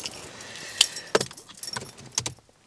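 Keys jangle in several short metallic bursts close to the microphone, separated by brief pauses, with no talking.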